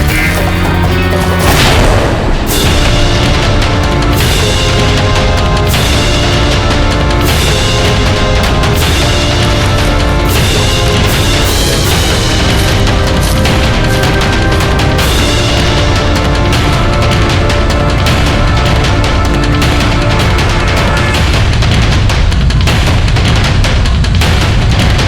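A loud explosion in a historical TV drama: a heavy boom erupts early, followed by sustained dramatic music with repeated percussive hits.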